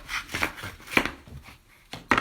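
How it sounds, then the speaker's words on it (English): A knife cuts egg carton sections in short, light, crisp strokes. The irregular cuts are close and quiet, with brief pauses between them. "we're just going to very carefully, cut with our knife here"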